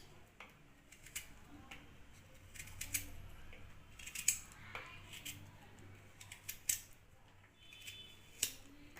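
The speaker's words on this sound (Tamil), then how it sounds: "நெல்லிக்காய்களை கட் பண்ணி எடுத்துக்கலாம்" Indian gooseberries (amla) are cut with a knife in a quiet kitchen. Faint, irregular snips and taps repeat across the stretch without any talk.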